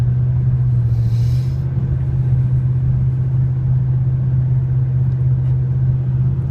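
A wood-fuelled vehicle rumbles steadily as it drives, its engine giving a loud, close, low drone with a constant hum and no voices.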